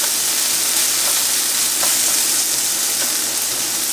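Onions and mushrooms fry in a pan with a steady, dense sizzle and a few faint stirring clicks, close and continuous with no talking.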